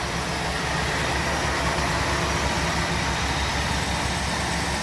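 A 1964 Buick Riviera with its stock engine idling, a smooth, steady, even running note with a low rumble and no other sounds.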